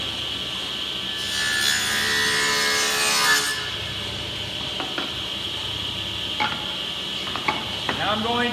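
A table saw cuts wooden drawer parts: a loud rising whir and rasp of the blade through the wood for about two seconds, then the motor keeps spinning with light knocks and scrapes as the stock is handled.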